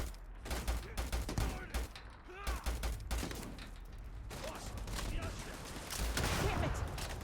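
Bursts of gunfire in the video game Starfield, rapid irregular volleys and sharp shots firing close and loud in clusters across several seconds, with a player's voice talking between them.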